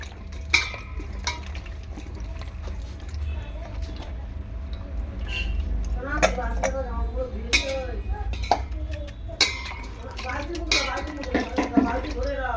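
Sliced eggplant being rinsed in water in a kitchen, with splashing, sloshing and clinking of a bowl or pot, steady low background noise, irregular louder bursts later on, and speech sounds mixed in.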